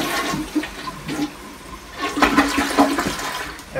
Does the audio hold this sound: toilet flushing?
yes